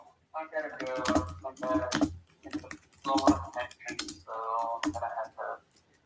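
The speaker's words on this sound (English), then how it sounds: "Yeah, I'm just typing" Rapid clicking of a computer keyboard during a WNBA draft broadcast, light keystrokes scattered under continuous nearby talk.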